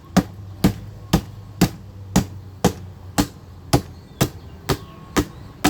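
Hammer blows knock the back tank off an old 1997 Toyota 4Runner radiator, about a dozen sharp metallic strikes in a steady rhythm roughly every half second, close and clear with no talking.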